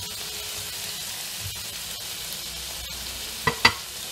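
Tagliatelle and mussels are stirred together in a hot pan, giving a soft continuous sizzle, with two brief sharp clinks of a utensil against the pan near the end.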